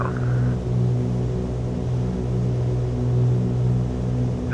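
Steady, loud engine drone of a Cessna 414AW Chancellor twin piston-engine aircraft in Microsoft Flight Simulator, a continuous low rumble held close and unbroken throughout with slight swells in pitch.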